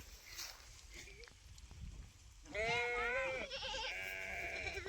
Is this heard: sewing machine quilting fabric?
no